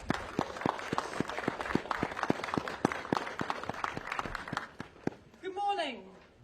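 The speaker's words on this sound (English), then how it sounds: "Let's give her a warm round of applause and good welcome" A rally crowd at a farming protest against inheritance tax changes applauds a sheep farmer taking the stage, with steady clapping that fades before a voice begins speaking.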